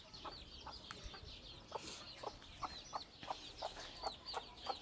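Newly hatched chicks in their first week, kept with a broody hen, give repeated thin, high peeps in a quick scattered rhythm, close by, with a few low clucks underneath.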